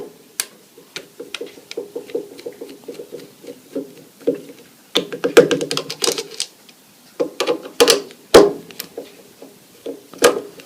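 Metal ratcheting and clicking as bolts and a screw are unscrewed with a 10mm socket from the air filter base of an eBay clone carburetor on a Honda engine, rapid close taps and clacks building to sharper knocks.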